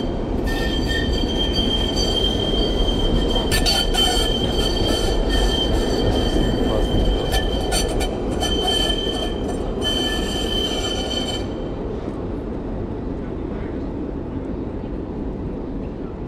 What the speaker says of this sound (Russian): Трамвай здесь вообще в тему.